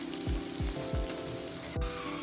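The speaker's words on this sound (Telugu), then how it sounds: "ఇప్పుడు సిమ్లోనే పెట్టి నెమ్మదిగా ఫ్రై చేసేసుకోవాలి." Mutton kheema with cashew and dried coconut paste and a splash of water frying slowly on a low flame, giving a steady close sizzle with a few soft stirring thumps and no talk.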